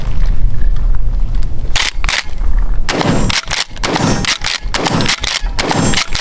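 A pump-action shotgun fired with normal pumping rings out loud and close, with sharp blasts alternating with mechanical clacks of the slide being worked in quick succession.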